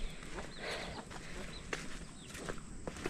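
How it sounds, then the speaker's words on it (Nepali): Chicken chicks in a village yard let out a few faint, scattered high peeps over a low outdoor background hum, with no voices. "कुखुराको चल्ला रहेछ साथीहरू यहाँ पुरा"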